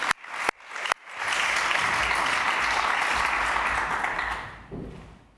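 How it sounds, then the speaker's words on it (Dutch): Audience applause welcoming panel members onto the stage at a Dutch talk event on rainbow families and the law, a sustained burst of clapping after a few isolated claps, fading out near the end. "geef ze een warm applaus, Sarah Koster, Machteld Vonk en Ulisse Elian"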